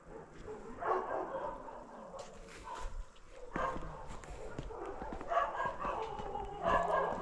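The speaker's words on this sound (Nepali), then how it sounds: "कुकुरहरू पनि भुगिरहेको छ" Several dogs bark at night along a ghat road near a cremation ground in Godawari, with repeated sharp barks and yips coming from a middle distance against a quiet background.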